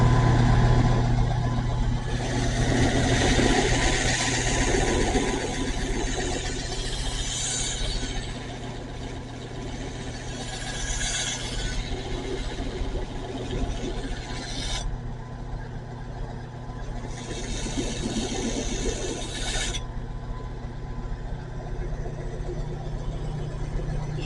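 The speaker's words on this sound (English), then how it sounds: "I'm going to use a Scotch-Brite belt on my trusty old shop box grinder." An old shop box grinder running a Scotch-Brite belt to clean an etched custom knife blade: a steady motor drone throughout, with a long stretch of bright abrasive hiss and then a shorter second pass.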